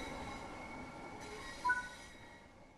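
A Class 465 electric multiple unit coasts along the track in Train Sim World 4, a quiet steady rolling hum with faint tonal whine and a brief soft clunk.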